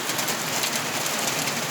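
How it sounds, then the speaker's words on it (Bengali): Heavy rain pours down steadily, a dense, constant hiss of drops close by with no other sounds. "অনেক অনেক বৃষ্টি।"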